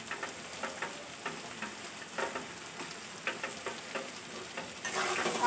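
Vegetables frying with ginger and cumin powder crackle softly while a spoon stirs them in repeated scraping strokes, with the sizzle swelling louder at the end.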